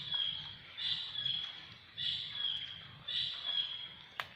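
Birds call repeatedly near a sacred grave in Indonesia, short high chirping bursts in a steady rhythm with gaps between, fairly faint against quiet outdoor background.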